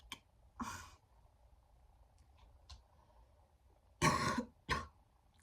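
A person recovering from illness coughs and clears their throat in a quiet room: a few short bursts near the start, then two stronger close coughs near the end, with faint breathing between.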